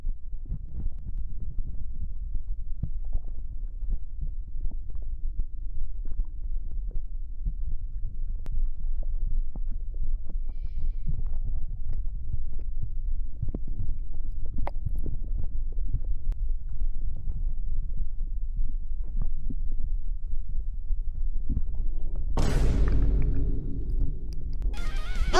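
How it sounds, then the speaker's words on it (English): Steady low heartbeat thumping with soft internal gurgling in an ASMR recording, a continuous close muffled rhythm for most of the length, ending with a brief louder rustle. "All you can hear is a heartbeat and gurgling."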